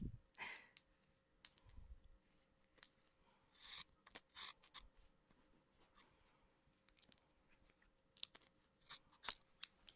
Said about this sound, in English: I need like medical grade scissors.